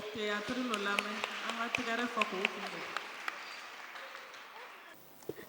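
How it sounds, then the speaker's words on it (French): Church congregation applauding to welcome a children's sketch at a Sunday school children's day service, a dense wash of clapping under singing and voices that fades away toward the end. "Sous vos acclamations, nous les recevons"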